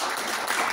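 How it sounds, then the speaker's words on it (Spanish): Brief, steady burst of congregation clapping during a church worship service, dense and loud with no other sound. "Dele palmas al Señor"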